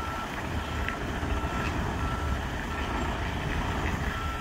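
A semi truck backs up a trailer, its reversing beeper chirping steadily over a constant diesel engine rumble, heard from nearby with no talk.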